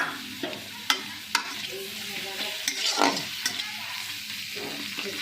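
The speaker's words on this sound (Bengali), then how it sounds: "এরকম ছোট ছোট করে কেটে রাখা পেঁয়াজটাও দিয়ে দিলাম" Chopped onion sizzles steadily in hot mustard oil in a wok, with a spatula stirring and clinking against the pan in scattered, close strokes throughout.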